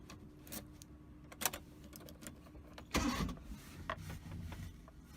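A 1983–2014 Maruti Suzuki 800 with an 800 cc inline three-cylinder petrol engine starts: clicks and switch sounds, then a brief cranking burst that catches into a faint idle, recorded quietly and close.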